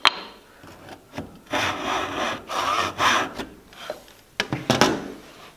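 A hand saw cuts into wood for a half lap joint with rhythmic rasping strokes, close and fairly loud, some strokes longer than others, with a few knocks between them and no talk.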